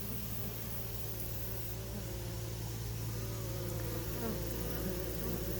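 Honey bees drone continuously around a swarm trap fixed in a tree, their dense, even buzz holding steady and fairly close throughout with no voices.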